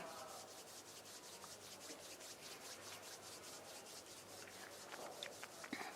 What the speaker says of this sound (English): bring the palms of your hands together at chest level and rub them gently against each other